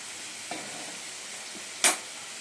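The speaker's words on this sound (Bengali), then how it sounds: "আলুগুলো ভেজে নিচ্ছি ভালো করে, লাল লাল করে" Potatoes frying in a pan for Bengali aloo dum, a soft continuous sizzle broken by a light stir and one sharp scraping clatter near the end, close by and fairly quiet.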